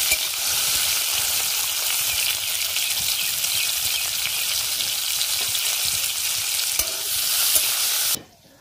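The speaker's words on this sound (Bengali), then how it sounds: "সেই টমেটো কোচানোটা দিয়ে দেবো।" Chopped tomato hits hot oil already seasoned with dried red chilli and five-spice seeds for a Bengali bitter gourd, potato and eggplant curry, giving a loud, dense, continuous sizzle with stirring that cuts off abruptly near the end.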